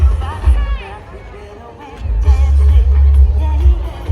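A large crowd packs the Fatorda Carnival in Goa, making a loud, dense outdoor hubbub with a deep rumble of noise and scattered shouts, and a nearby voice talks over it.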